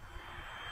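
An EFX Racer RC plane flying on a 3S setup with its stock propeller, its electric motor at half throttle giving a steady even whine in flight, with no talking.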